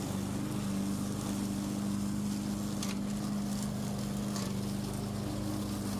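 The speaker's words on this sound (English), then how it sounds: "If you notice that mower, every time it's bunched up like that, I'm lifting it up a little bit and dropping it right down and mulching them up." A lawn mower mulching leaves during a leaf cleanup, a loud, steady, close engine drone that runs without a break, with a few brief rustles over it.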